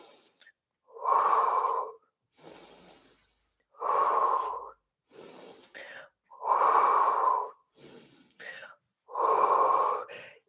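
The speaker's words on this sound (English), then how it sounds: "keep that breathing going" Rhythmic, audible breathing during a live pilates core workout, with strong bursts alternating with softer ones in a steady inhale-exhale cycle, close and clear with no talking.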